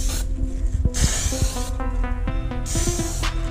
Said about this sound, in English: You kind of want to start spraying, like not on the model, almost like way to the left to kind of get the right stream of paint